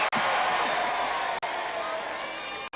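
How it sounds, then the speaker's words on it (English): A crowd cheers and whoops at a 1981 televised championship knockout game show, a continuous roar of voices and clapping with brief sharp cuts in the sound. "your applause, please."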